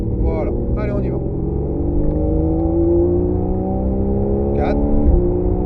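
A Porsche Carrera 4S engine drones loudly and rises steadily in pitch as it accelerates on the Mettet race circuit, heard from inside, with a person talking over it.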